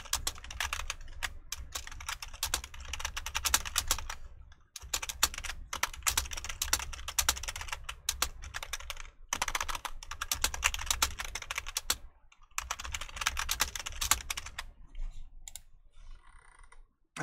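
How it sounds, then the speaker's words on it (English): Rapid typing on a computer keyboard while writing a message, dense bursts of key clicks broken by brief pauses, close and clear with no talk. "let's start typing up a message"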